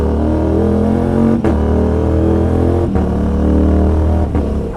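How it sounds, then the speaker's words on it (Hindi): Aprilia RS457 motorcycle with its dB killer removed, revving hard through gear shifts; a loud, continuous engine note close by, broken by three brief dips at each shift where the exhaust pops and crackles before pulling again. "तब तक तुम लोग इसके शिफ्ट पे पॉप सुनो भाई।"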